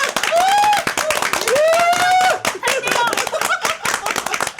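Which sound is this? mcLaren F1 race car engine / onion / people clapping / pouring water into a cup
people clapping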